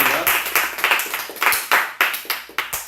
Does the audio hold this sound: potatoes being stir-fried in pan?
no